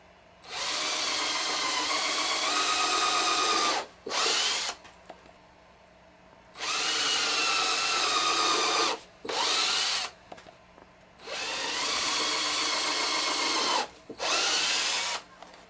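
A power drill boring holes for drywall screws into a metal dance pad build, in four long bursts of steady high whine separated by short pauses, with brief shorter runs in between.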